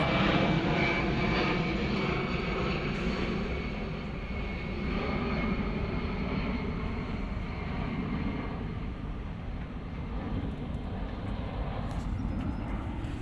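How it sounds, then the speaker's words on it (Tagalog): A large airplane passes overhead near a coastal reclamation area, a loud sustained engine roar that swells and ebbs over several seconds, heard outdoors without speech. "guys oh ito laki ng aeroplano"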